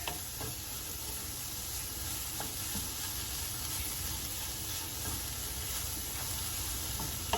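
Cauliflower rice and mixed vegetables fry in a pan with a steady, fairly quiet sizzle, punctuated by faint scrapes and clicks as they are stirred and pushed across the surface.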